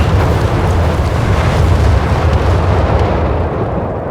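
Carpet bombing pounds a town in the video game Company of Heroes 3: loud, continuous explosions merge into one heavy rumble that eases slightly toward the end.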